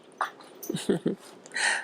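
A small dog whimpers and huffs in short bursts close by, with a few brief yelps and breathy sounds in quick succession.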